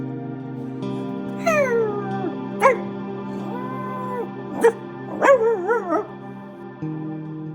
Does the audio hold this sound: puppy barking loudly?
yes